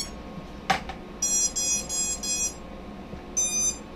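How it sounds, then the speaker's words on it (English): Drone ESCs sound their startup tones when plugged in: a short click, then a series of four even electronic beeps, a pause, and one more beep, clear and close. "normal series of beeps"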